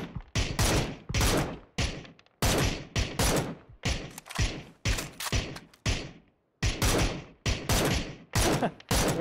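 Automatic gunfire in the game PUBG erupts in a long series of loud, close bursts, each a rapid rattle of shots separated by short gaps of near silence.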